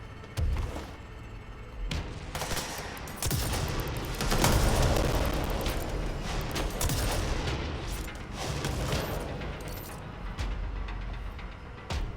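Bursts of video-game gunfire from Control, with rapid volleys of shots and heavy thuds, repeat loudly and densely over several seconds with no speech.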